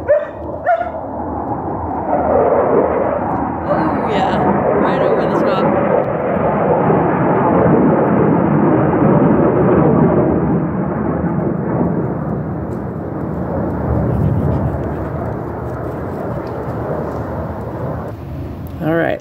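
Military jets flying overhead make a broad, continuous roaring rumble that swells and slowly fades, heard from a backyard, with a few dog barks breaking through early on.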